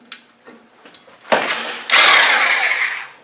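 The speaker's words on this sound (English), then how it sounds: "Sawzall, best tool you can get." A Sawzall reciprocating saw bites into the exhaust silencer of a Land Rover Discovery 2, starting after a few light knocks and growing into a loud, steady rasping cut that runs close and unbroken to the end.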